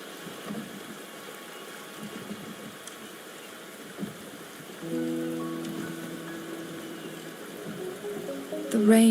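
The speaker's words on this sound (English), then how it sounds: "The rain is subsiding" Steady rain in the video game Wuthering Waves patters on surfaces, a soft continuous hiss, joined midway by a low droning tone and a brief louder swell at the end.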